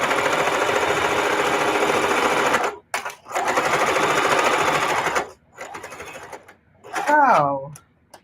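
A sewing machine stitches a quilted mug rug with many seams and a short backstitch, running in long loud bursts with brief stops between them, and a voice speaks near the end.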